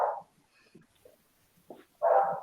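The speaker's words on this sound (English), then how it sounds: "I live with two dogs, and they both bark like crazy." Two pet dogs barking at passers-by on the street, a sharp bark at the start and another near the end, with faint yips and whimpers between.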